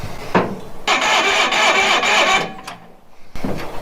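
A job-site welder's engine cranks repeatedly without catching despite having fuel, giving a steady churning starter whir for about two seconds, with short bursts before and after and no voices.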